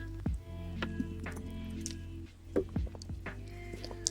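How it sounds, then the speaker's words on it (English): Small wet water noises from an ASMR stream, soft squishes and drips scattered irregularly close to the microphone over a faint low hum. "Forgive me for water noises."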